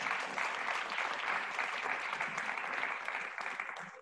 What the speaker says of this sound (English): Can we give a round of applause to Josh, please?